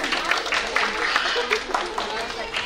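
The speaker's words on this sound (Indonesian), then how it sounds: "Pintar, tepuk tangan semuanya." Children and an audience at an evening sky-watching picnic for the Moon and Saturn conjunction clap steadily in a dense patter, with voices mixed in throughout.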